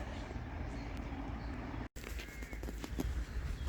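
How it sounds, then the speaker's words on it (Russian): Crows call outdoors among pines in a residential yard, faint and distant over a low rumbling background, with a brief cut partway through. "Птички вон гуляют какие-то."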